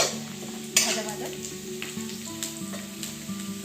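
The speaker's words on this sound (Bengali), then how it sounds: "দেখুন পেঁয়াজের বেরেস্তাটা ভাজা হয়ে এসেছে, আর একটু হবে ভাজা ভাজা" Sliced onions frying in oil for Brahmapur-style biryani, a close steady sizzle with occasional stirring clinks and scrapes, alongside a low background hum.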